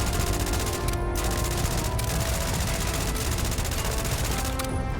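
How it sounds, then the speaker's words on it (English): Sustained gunfire in the sci-fi video game Starfield, a dense continuous firefight of rapid shots and bursts that stays loud throughout with no talking. "Guns blazing."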